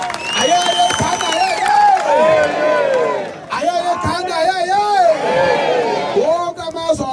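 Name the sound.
crowd applauding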